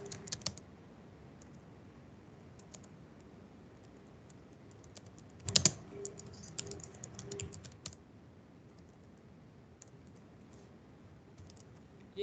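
Keyboard typing on a computer while entering a search keyword, a quiet patter of key clicks with a denser burst midway, scattered taps afterward and low room hiss, no talking.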